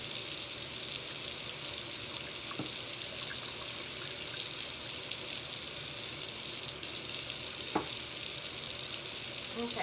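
Hot tap water runs into a measuring cup in a home kitchen as a steady, even rushing hiss that lasts throughout, broken by a couple of faint clicks. No one talks over it.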